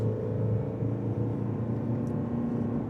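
A Toyota RAV4 Woodland hybrid with an E-CVT accelerates with a steady, fairly loud low engine drone and road rumble from inside the cabin, with no talking.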